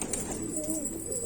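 Pigeons cooing in a rooftop loft of male birds in Pitampura, soft throaty coos rising and falling over steady background hum, close by with no talk.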